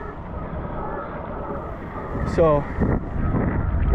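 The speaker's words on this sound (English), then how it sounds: "Good thing is we got wind" Wind buffets the microphone at a coastal spot during downwind foil training, a steady rushing roar throughout with someone speaking briefly over it.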